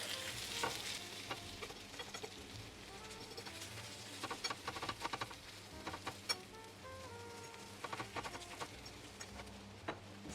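A cabbage and sweet potato omelette fries quietly in a pan, a soft continuous sizzle with scattered small pops and ticks, fairly faint and close, with no talking.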